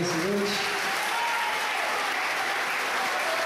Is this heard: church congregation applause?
yes